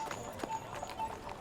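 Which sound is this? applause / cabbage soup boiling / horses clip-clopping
horses clip-clopping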